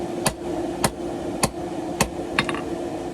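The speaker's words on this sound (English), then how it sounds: "I'm going to start by using the edge of the anvil, kind of pulling the material away from me, forging a taper" A hammer strikes a ball bearing Damascus bar on the edge of an anvil to forge a taper for a karambit. Five sharp metallic blows land at a steady, unhurried pace, and a faint ringing hum sits underneath.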